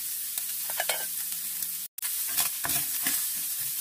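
Ground chicken and beans fry in a hot pan while a utensil stirs and scrapes through them, a close sizzle broken by brief clatters and one short gap, no talking.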